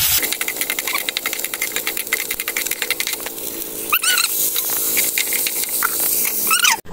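Fish frying in a pot gives a steady, fairly loud crackling sizzle with dense spattering pops, louder sharp bursts coming through near the end, and no talk.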